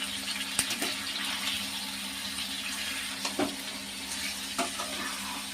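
Onions fry in a pan for a chicken and kandanakaya dish, giving a steady broadband sizzle with a few sharp clicks of stirring scattered through, no voices.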